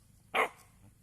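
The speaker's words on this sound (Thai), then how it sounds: "นั่นเห่าอีกวันนี้" One short, sharp bark rings out from a dog facing cows at a rural forest temple in Nakhon Phanom, Thailand. It is moderately close, and quiet outdoor ambience follows.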